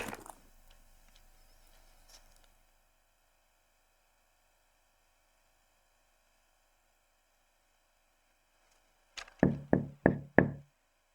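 Four sharp knocks on a door in the horror video game Living Corpse ring out in quick succession near the end after a long quiet stretch with only a faint electronic hum.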